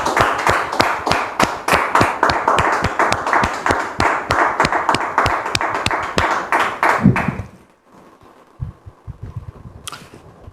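An audience gives loud, fast, rhythmic applause in a dense run of claps to welcome guests Muriel and Arnaud, then it stops abruptly and a few scattered sounds follow in the quiet.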